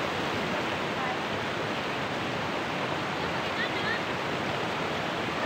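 Flowing stream water gushing steadily at close range, a continuous broadband rush without pause.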